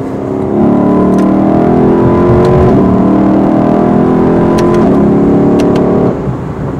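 Lexus LC 500 accelerating on the highway, a loud, steady engine roar heard from inside the car, rising smoothly in pitch with a couple of brief shifts before it eases off near the end.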